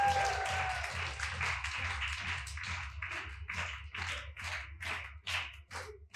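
An audience at a motivational talk claps, the applause thinning into separate, uneven claps over a low background hum, fairly soft and somewhat distant.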